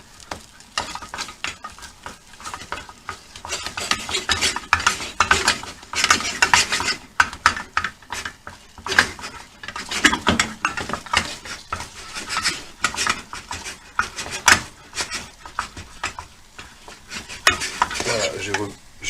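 Choux pastry dough cooks in a saucepan while a spatula stirs and scrapes it continuously, giving a long run of dense, rhythmic scraping and soft sizzling close up.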